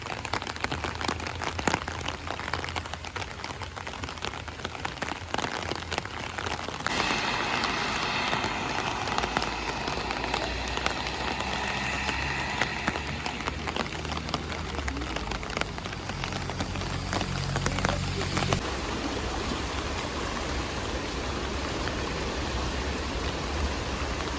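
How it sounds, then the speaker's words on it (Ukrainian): Steady rain patters on surfaces in Zakopane, a dense, close hiss of drops that swells a little in the middle and carries on without talking. "все ще йде дощ, але вже трошки менше."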